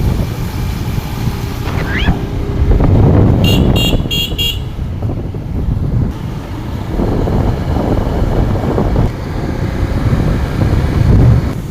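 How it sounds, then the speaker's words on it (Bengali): Steady road traffic on the Dhaka–Nawabganj highway in Bangladesh, with passing vehicles rumbling close by, a few short horn toots near the middle, and wind buffeting the microphone throughout. "এটা হলো ঢাকা নবাবগঞ্জ হাইওয়ে রোড"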